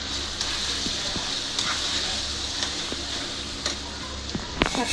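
Mutton curry sizzles steadily in a frying pan while being stirred, a close, even crackle with scattered light ticks from the spoon and no talking.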